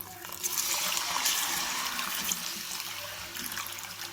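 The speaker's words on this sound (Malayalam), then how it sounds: "അതിലേക്ക് നമ്മുടെ ഈ ചൊറുക്ക വെള്ളം ഒഴിക്കാം." Steady rush of vinegar water pouring into a pan, continuous and fairly close, with a bright splashing hiss throughout and no talking.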